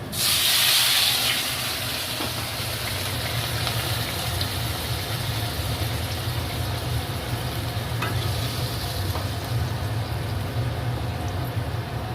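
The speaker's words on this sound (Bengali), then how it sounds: "মশলা ভালো করে কষানো চলছে" Spices fried and stirred in a pan for a vegetarian winter aloo dum (potato curry): a steady, close sizzle runs throughout, with scraping stirs over the hiss.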